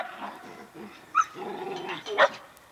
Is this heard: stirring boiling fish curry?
no